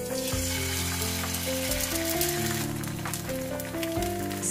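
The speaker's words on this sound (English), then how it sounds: "make an egg fry" An egg frying in a pan, a dense continuous sizzle and crackle, close and steady, with faint tonal music underneath and no voices.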